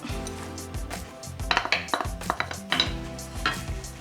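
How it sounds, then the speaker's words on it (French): Onions and peppers going into hot oil in a pan, with stirring clatter and clinks of utensils against the pan over a low sizzle, close and fairly busy throughout. "Et je viens rajouter à mon huile les oignons. Mais aussi les poivrons."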